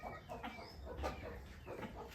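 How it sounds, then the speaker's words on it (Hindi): A desi rooster on a farm gives short, repeated clucks in an uneven rhythm, fairly close but low in level, with faint background noise and no voices. "देखो ये देसी मुर्गा है।"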